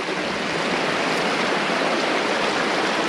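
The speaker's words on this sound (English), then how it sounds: "Running water" A stream of running water beside a bush campsite, heard as a steady, full rushing wash with no breaks, close by and alone with no voices.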